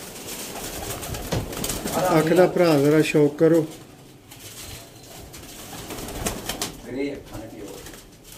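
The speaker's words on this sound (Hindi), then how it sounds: "इंडियन रानी वाला कबूतर है।" An Indian Rani pigeon coos in a burst of rippling, throaty calls near the start, with a shorter coo later, while someone talks over and between the calls.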